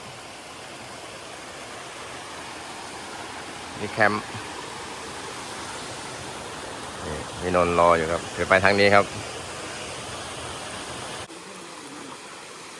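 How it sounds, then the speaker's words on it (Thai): Leela Sawan waterfall in Khao Luang National Park pours with a steady, even rush that fills the whole stretch, while someone talks briefly over it now and then. "อันนี้น้ำตกลีลาสวรรค์ครับผม"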